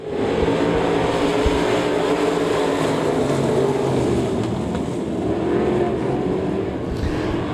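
Race cars roaring around the dirt oval at Devil's Bowl Speedway during a heat race, a loud continuous engine drone from several cars held at high revs throughout.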